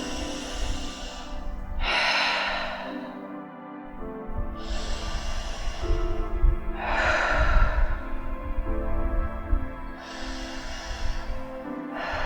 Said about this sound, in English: take 3 deep breaths here